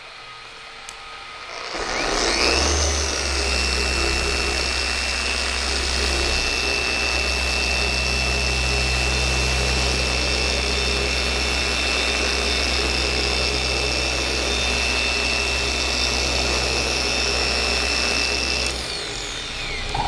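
ShineMate ERO random-orbital car polisher starts after a brief pause and runs steadily for about sixteen seconds as a loud, close, continuous whine with a low hum, then winds down near the end.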